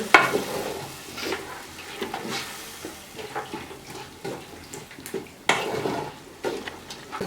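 Kappa (tapioca) biryani being stirred in a pot, with scraping, clattering strokes at an uneven rhythm and a soft background hiss, close and moderately loud, no one talking.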